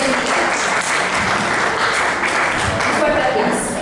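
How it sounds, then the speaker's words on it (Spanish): An audience at a Christmas church gathering applauds to welcome a speaker, with steady, dense clapping from many hands holding at an even loudness throughout. "Un fuerte aplauso."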